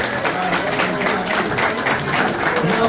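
An audience at a CPA award ceremony in the Pichón category applauds steadily, a dense patter of many hands clapping together at close range.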